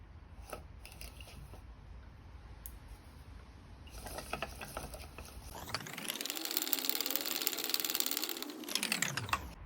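Fishing line being wound onto the spool of a new fishing reel under tension, a steady whirring mechanical clicking that rises after a few scattered clicks and continues loudly to the end.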